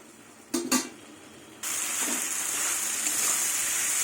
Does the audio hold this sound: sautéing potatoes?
yes